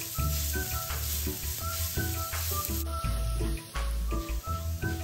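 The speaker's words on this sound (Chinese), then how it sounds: "倒入30克红葱片，中火爆香" About 30 g of sliced red shallots sizzle steadily in cooking oil over medium heat, a constant crackling fry that runs the whole time beneath a layer of tonal background music.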